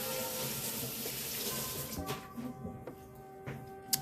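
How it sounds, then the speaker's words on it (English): Water runs steadily from a kitchen tap into a sink as hands are washed beneath it, a continuous close rushing broken by a few splashes and soft knocks near the end. "So let me wash my hands."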